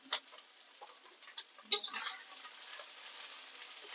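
Cabbage pulihora tempering with turmeric being stirred in a pan: a soft sizzle with a few sharp metal clinks and scrapes from a spoon, close up and fairly quiet, with no voices.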